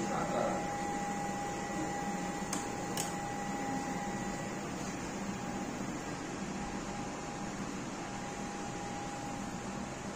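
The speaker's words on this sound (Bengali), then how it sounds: "মোটরটি এখন রিভার্স স্পিডে ঘুরছে।" An electric motor driven by a variable frequency drive runs in reverse, giving a steady, even whine and hum with a couple of brief clicks early on, no speech.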